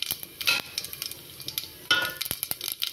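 Whole cumin seeds dropped into hot oil for dal, crackling and sizzling up close in sharp repeated bursts, with a utensil stirring and scraping the pan.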